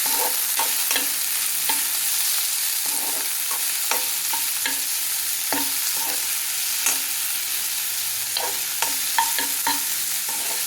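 Cucumber pieces frying in a pan are stirred, giving a steady bright sizzle with repeated light scraping taps of the spoon throughout.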